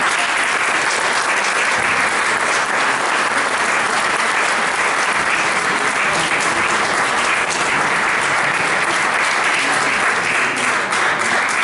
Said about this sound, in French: Je les applaudis.